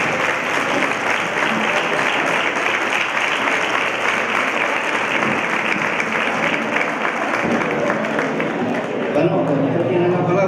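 Audience at a Día de Andalucía event in Chiclana gives a speaker a long, sustained round of applause, steady and dense throughout with crowd noise mixed in.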